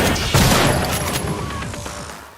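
Gunfire and explosions from the military shooter Spec Ops, a dense loud burst of rapid shots and booms that swells sharply and then slowly fades, with no voices over it.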